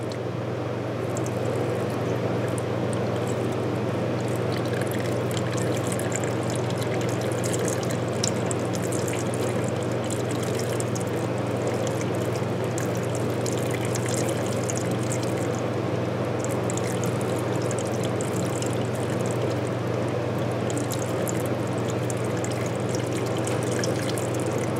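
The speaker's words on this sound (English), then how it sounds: "I've got a partial gallon jug of WD-40 here, and I'm going to try to do is fill the cylinder up" WD-40 from a partial gallon jug pours steadily into a cylinder of a 305 Chevy engine. A continuous liquid trickle runs for nearly 25 seconds at an even level, with a low steady hum beneath it.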